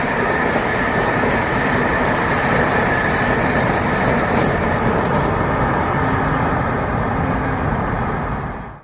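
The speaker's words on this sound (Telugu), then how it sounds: "ఫుల్ స్పీడ్లో చీనా బ్రిడ్జ్ పై ట్రైన్ దూసుకుపోతుంటే దుమ్ము లేచిపోయింది." A train on a full-speed trial run at 100 km/h crosses the Chenab rail bridge, a steady loud rumble with wheel clatter that holds throughout, then fades away at the end.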